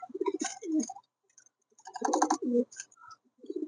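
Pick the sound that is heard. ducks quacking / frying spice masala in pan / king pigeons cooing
king pigeons cooing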